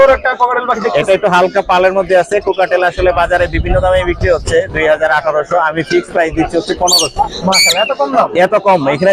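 A talking pet bird at the Mirpur 1 bird market squawks and lets out sharp high chirps, loud and close, mixed in with continuous speech from people nearby.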